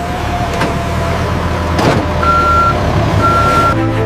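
Delivery truck on the road giving off repeated electronic reversing beeps over a loud, steady engine and traffic rumble, the beeps spaced evenly and clearly audible above the noise.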